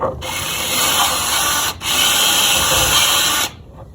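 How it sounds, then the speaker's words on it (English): A power drill whines steadily at close range drilling two small holes in a Range Rover Evoque headlight housing, cuts out for a split second, runs again, then stops. "We need to drill two little holes."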